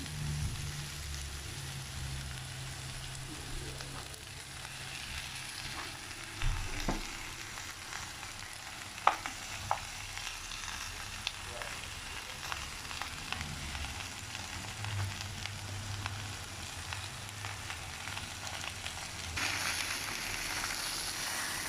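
Chicken pieces sizzle on an oiled stone grill at home, a steady close crackle and hiss of frying with occasional sharp pops and light clicks, continuing without talk.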